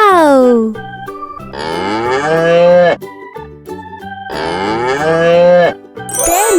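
A cow moos in long, loud, drawn-out calls, two big bellowing moos with quieter lowing between them, heard clearly and close with no talking.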